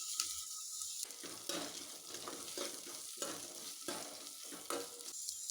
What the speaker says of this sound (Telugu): ఇప్పుడు మనం ఆల్ స్పైసెస్ వేసుకోవాలి అండ్ బిర్యానీ ఆకులు, కొంచెం అల్లం వెల్లుల్లి పేస్ట్ వేసుకున్నాం.